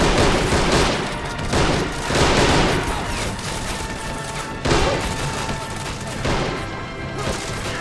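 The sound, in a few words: riflemen firing rifles in a firing line, video game Army Men of War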